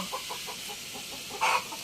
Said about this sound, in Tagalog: Ayan, ang mga tilaok na manok.